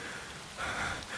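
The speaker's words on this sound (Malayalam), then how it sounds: "ആ പുറത്ത് നല്ല മഴയുണ്ട്." Steady rain falls outdoors as a continuous close hiss that swells slightly louder partway through, with no voices over it.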